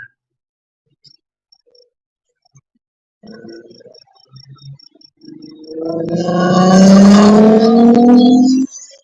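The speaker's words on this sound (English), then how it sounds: "My car makes noise." A car engine revs up loudly and close, rising in pitch for a few seconds before cutting off, after quiet scattered knocks and rustles.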